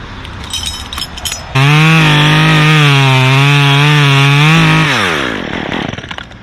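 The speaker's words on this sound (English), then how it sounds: "I sharpened that saw last night. It is so much better." A freshly sharpened chainsaw cuts sappy wood while a leaning tree is taken down alone. It roars in loud and close, holds a steady, slightly wavering whine for about three seconds, then winds down.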